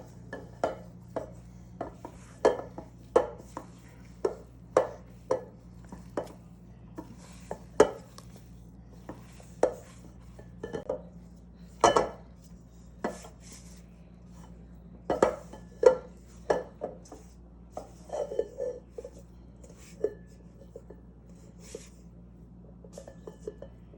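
Flour being worked into flour tortilla dough in a bowl, a steady run of soft thuds and scrapes from mixing, close up, with a low hum underneath and no talking.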